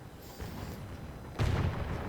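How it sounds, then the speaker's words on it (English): Renaissance-era cannon fire in a Total War strategy battle booms out as a heavy low blast about midway, with a fainter distant rumble of battle before it and no talking over it. "He's actually charging at us with his cannon."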